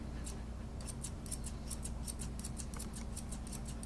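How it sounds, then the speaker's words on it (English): Curved grooming scissors snip in a quick, steady series of light, crisp clicks against a constant low hum, with each closing of the blades close and fairly quiet. "we are going to use our curved scissors"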